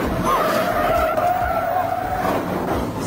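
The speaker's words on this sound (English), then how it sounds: "A truck crashed into a stop car during a traffic stop in Coralville," Tires skid with a sustained squeal as a truck crashes into a stopped car during a traffic stop in Coralville, Iowa, heard over steady road noise.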